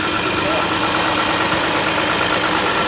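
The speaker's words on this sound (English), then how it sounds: "That's firing right up. We don't have any smoke coming out, but you can see it's misfiring." Close, steady idle of a Lexus engine with a misfire, a continuous mid-pitched running note with a slightly uneven, knocking pulse throughout, loud and alone.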